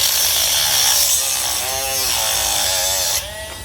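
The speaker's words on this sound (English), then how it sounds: "take your cutoff wheel, come up from underneath, and make a nice little slit on either side" Rotary cutoff wheel cutting a slit into a glass insulator, a loud high grinding whine with wavering pitch as the wheel bites, dropping in level near the end.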